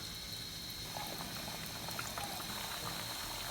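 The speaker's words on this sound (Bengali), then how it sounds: "ডুবন্ত তেলের মধ্যে এগুলোকে ভেজে নেব।" Mung pakon pitha deep-frying in oil, a faint, even bubbling hiss that runs steadily without breaks or voices.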